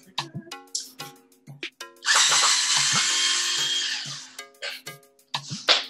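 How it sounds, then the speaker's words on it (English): A power drill removing the screws from a rifle bolt, starting with short clicks and bursts before one long steady whir of the motor, close by, with more short clicks after it. "So first things first, get that power drill."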